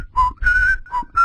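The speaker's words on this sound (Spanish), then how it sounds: "me empezó a silbar esta canción" A person whistles a short melodic phrase, a few clear notes rising and falling, close and alone.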